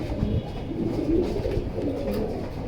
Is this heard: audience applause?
no